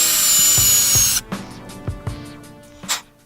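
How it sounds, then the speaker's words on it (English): A drill with a 1/8 bit bores into an airsoft hop-up chamber: a loud burst of drill whine, then a string of short scraping, knocking bursts as the bit works the plastic. "I move up to the 1/8 drill bit."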